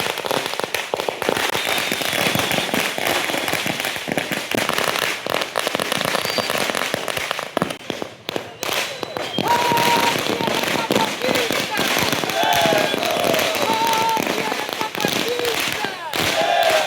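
Firecrackers set off by residents celebrating in a neighborhood of chawls: dense, continuous crackling and popping bursts, loud and close, with voices of the crowd faintly mixed in.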